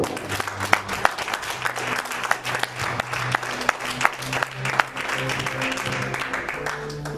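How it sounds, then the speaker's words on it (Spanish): A church congregation claps steadily throughout during a sermon, dense hand claps that mix with a voice and a sustained musical tone underneath. "Dele un fuerte aplauso al Señor."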